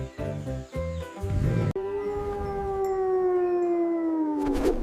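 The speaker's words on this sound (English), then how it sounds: "Who howls at the moon? It's a wolf." A wolf gives a single long, rising and sustained howl, loud and close, after a short burst of other animal calls.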